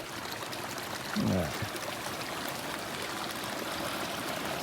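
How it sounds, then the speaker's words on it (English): A small mountain stream spills over little waterfalls along a trail, giving a steady broad wash of flowing water throughout, with a brief closer splash or pour near the start and a short spoken word. "Little waterfalls."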